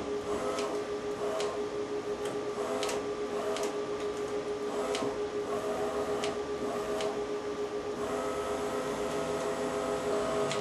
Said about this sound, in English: We've got it powered up. My drag rollers are working fine there.